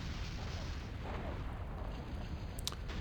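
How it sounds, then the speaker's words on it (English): Long-range plasma cannon fire in a 4v4 Total Annihilation: Escalation match on the Mana Core map: a dense, continuous rumble of overlapping booms and blasts with no pause, steady and loud throughout. "both teams have now entered into the long-range plasma cannon phase of the game."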